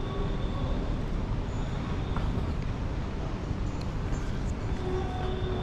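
Steady low rumble of a train at a modern Moroccan railway station, a continuous broad roar held at even loudness throughout with faint higher tones, heard alone without talk.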